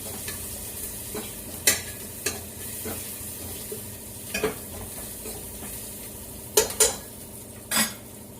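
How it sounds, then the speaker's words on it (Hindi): Onions sizzling and browning in a pan on a home stove, a steady soft frying hiss broken by a few sharp scrapes and clinks of a spoon against the pan. "बस प्याज ब्राउन हो जाएगी तो टमाटर डाल देंगे"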